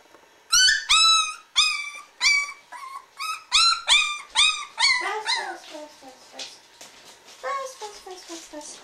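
A small puppy in an indoor pen whines and yips in a rapid series of high, close cries that fade into softer whimpers, with a person talking nearby.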